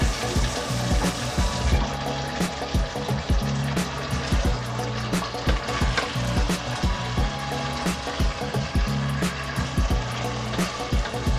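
Water is added to chicken curry in a pan, producing close splashing, trickling and bubbling with irregular clinks and knocks throughout, moderately loud and with no talking.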